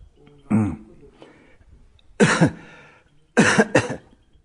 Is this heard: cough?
yes